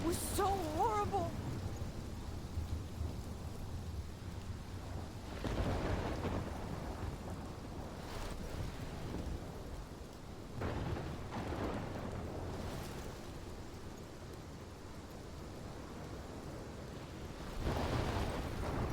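A thunderstorm rumbles in the video game Life is Strange Remastered, with steady rain and recurring deep thunder swells under a brief stretch of speech.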